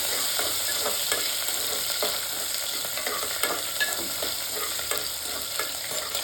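Onion frying in a pan for broken wheat rice, a loud, steady sizzle with light intermittent stirring scrapes.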